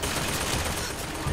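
Dense burst of gunfire in the video game Bioshock Infinite, loud and continuous with overlapping shots filling the short stretch, no talk over it.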